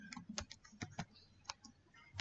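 Typing on a computer keyboard while entering a command in a console, with a run of quiet, irregular key clicks and a few sharper taps. No voices.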